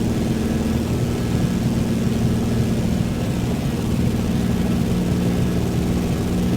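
A Cessna propeller plane cruises in Microsoft Flight Simulator 2024, giving a loud, steady engine drone with a low rumble and even broadband roar that runs unbroken throughout, with no voices.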